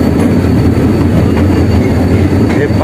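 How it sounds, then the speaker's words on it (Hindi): A train rumbles loudly and steadily past a railway level crossing gate, its wheels clattering on the track in a continuous close roar with no talking. "हे फाटक था क्रॉस थी वियो हे ट्रेन आहे"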